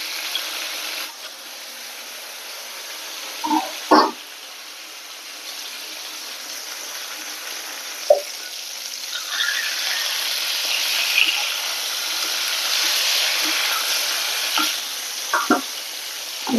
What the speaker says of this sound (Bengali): ঝিঙে ভাজাটা হয়ে গেছে